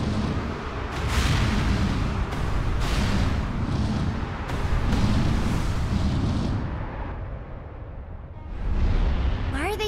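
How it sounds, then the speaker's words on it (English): Artillery fire hits a ship in the video game Broken Age, with repeated booming blasts and rumbling explosions. Bursts swell and fade across the scene, some close and heavy, under faint speech. "They're firing at her!"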